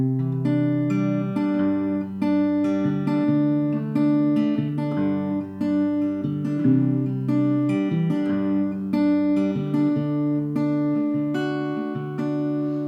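Fingerpicked acoustic guitar playing a steady rolling pattern of bass notes and higher strings, clear and close, with no voices.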